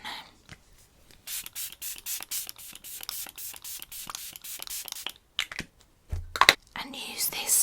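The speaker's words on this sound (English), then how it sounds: "some setting spray on." Short bursts of fine makeup setting spray hiss out in a quick irregular series, close up, with soft handling noises between them.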